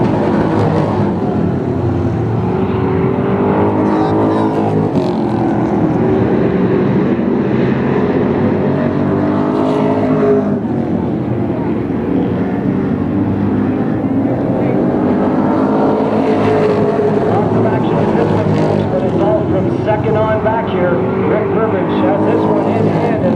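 Thunder cars race on the oval at Flamboro Speedway on opening night, their engines roaring loud and continuous as the pack circles, with a commentator talking throughout.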